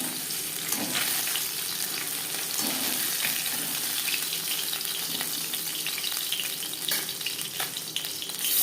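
Continuous crackling sizzle of sarputi fish frying in hot oil, close up, with occasional clinks of a utensil stirring.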